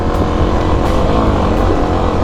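A Kawasaki KLX250 motorcycle engine labors loudly up a steep trail in third gear, a dense, close, continuous rumble that never settles or rises clearly in pitch.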